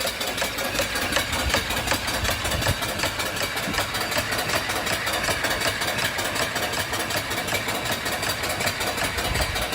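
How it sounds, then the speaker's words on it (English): A live steam mill engine, a newly built model machined from the builder's own castings and fed by a boiler, runs steadily, giving a continuous near mechanical chugging with a faint rhythmic knock and no talk over it. "Really nice engine."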